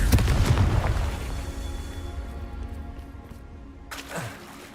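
A Confringo spell blast in a video game goes off as a loud, rumbling boom at the start, then decays into a lingering low roar, with a second smaller burst near the end.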